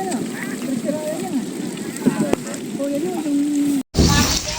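Rain falls at a fishing spot in Valenzuela City, a continuous close hiss with scattered drops, while people talk over it and a brief cut interrupts near the end.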